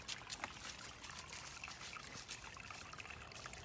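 Backyard stream water trickling and splashing in a steady, close, continuous wash of bright watery noise with no voices.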